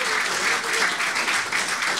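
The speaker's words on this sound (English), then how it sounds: "let's have another round of applause for our performers" Applause from the crowd at the IIG Awards show, a full, sustained round of clapping from many hands, moderately loud and steady with slight swells.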